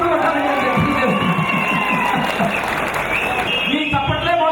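Audience applause at a political speech, loud and dense clapping mixed with crowd cheers and shouts, with a voice speaking over the clapping.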